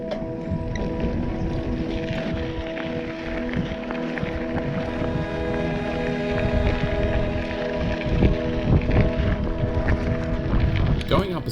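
Strong wind buffets the microphone while cycling along a path from Footscray toward Watergardens, a steady loud roar and rumble with gusts rising toward the end, and no voices.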